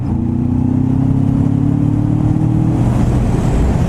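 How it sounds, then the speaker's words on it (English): Kawasaki Vulcan S motorcycle with an aftermarket exhaust revving up close, a loud steady engine drone whose pitch climbs gradually over a few seconds with no talk. "I mean, when I get on the exhaust like that,"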